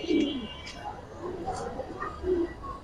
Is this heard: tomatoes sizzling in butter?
no